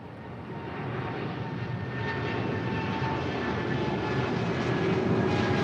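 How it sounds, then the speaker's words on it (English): A two-year-old Boeing 777 freighter roars at Los Angeles International Airport, a broad, continuous engine rumble that grows slightly louder throughout, with no voices. "That is a 2-year-old 777 freighter"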